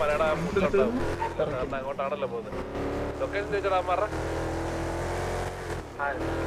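Engine noise from cars in a city roleplay video game rises and falls steadily as they drive past, with a person talking excitedly over it.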